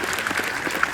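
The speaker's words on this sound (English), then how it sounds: "big round of applause for those guys." Festival crowd applauding a team of volunteers before a horror film screening, a brief, steady wash of clapping heard from within the audience.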